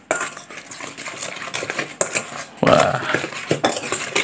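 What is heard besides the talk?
stirring spinach chip batter with a utensil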